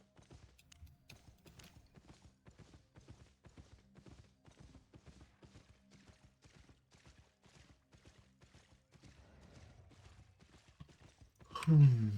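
Video game sound: hooves clip-clop at a steady walking pace, crisp and evenly spaced, ending with a brief louder snort or whinny.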